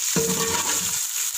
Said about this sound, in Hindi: इनको थोड़ा सा भूनेंगे।